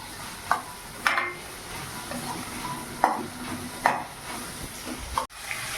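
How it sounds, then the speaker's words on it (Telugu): Ingredients for egg masala curry stirred in a frying pan until browned: a continuous soft sizzle broken by several sharp scraping strokes of the spoon against the pan, each a brief loud accent. "బ్రౌన్ కలర్ వచ్చేదాకా కలుపుతూ ఉండాలి."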